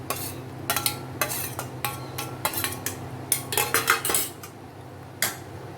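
Okra tossed into a metal cooking pot for sambar, producing a quick series of sharp clinks and clatters of metal utensils against the pot, fairly faint with irregular bursts and no talking.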